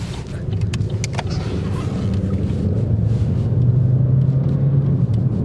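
A 2012 Chevy Cruze Turbo rumbles steadily from inside the cabin as it drives and moves through its gears. The engine drone rises slightly in pitch and loudness toward the end, with faint clicks and knocks over it.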